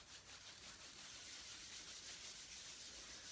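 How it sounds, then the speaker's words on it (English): Close, faint dry friction of hands rubbing together, a steady soft swishing during a meditation that continues for a few seconds with no talk. "And rub your hands"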